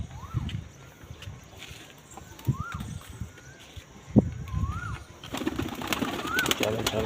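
Pigeons coo in a series of short rising-and-falling calls spaced a second or so apart, fairly close, over a soft background of rustling and low thumps.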